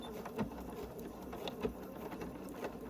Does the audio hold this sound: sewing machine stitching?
yes